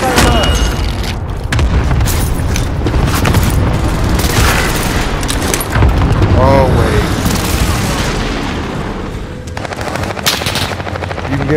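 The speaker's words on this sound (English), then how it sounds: "Allied cluster strike arriving. Enemy precision airstrike." Airstrike explosions in Call of Duty: Modern Warfare, heavy booms and rumbling blasts mixed with machine-gun bursts and rotor noise, loud and continuous, while players talk and an announcer's voice comes through.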